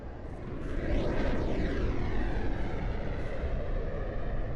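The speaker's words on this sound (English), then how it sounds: "the plane noises are intensifying" Airplane engine noise in the Project Zomboid video game, a broad steady roar that swells in over the first second and then holds loud and constant, with no talking.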